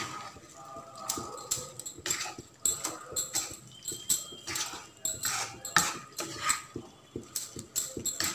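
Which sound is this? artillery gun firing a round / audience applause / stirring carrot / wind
stirring carrot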